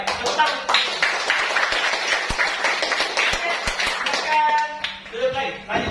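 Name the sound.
students clapping hands in class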